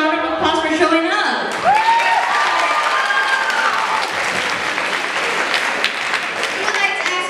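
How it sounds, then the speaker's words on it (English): Audience applause at a showcase performance, broad sustained clapping from a crowd that fills the room for several seconds, with a voice speaking over the start. "Give yourselves a round of applause for showing up."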